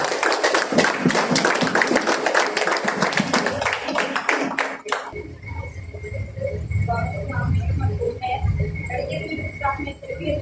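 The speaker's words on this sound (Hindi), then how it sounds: "आइए हम सब खड़े हुए मौजूद तालियों में खुदा की आवाज को वेलकम" Church congregation clapping in unison at a Hindi-Urdu service, a rapid loud burst of claps for about five seconds that then gives way to a quieter room with low murmuring and stray sounds.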